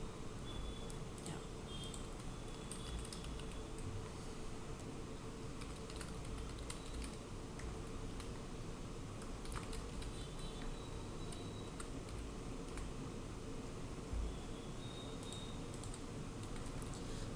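Fingers tap steadily on a computer keyboard while bank account credentials are entered, a quiet run of irregular clicks and keystrokes over faint room hum, with no voice.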